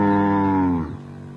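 A single cow in a Mandari cattle camp in the evening lets out a long, loud moo close by, trailing off after about a second.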